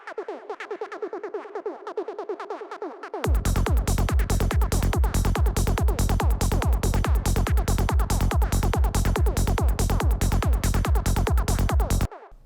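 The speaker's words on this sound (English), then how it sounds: "Today we're going to do Psytrance Squelches and we're going to sequence it" A squelchy psytrance synth lead made in Phase Plant plays a fast, steady sequence of repeated notes over a pounding beat, loud and continuous after a brief softer intro.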